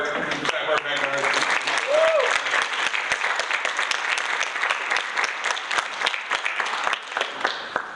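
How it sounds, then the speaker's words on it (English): A crowd at a poetry slam claps for a poet with sustained, fairly loud applause that fills the whole stretch, with a brief whoop or whistle early on and no clear talk over it. "Yeah, she's close. We can clap."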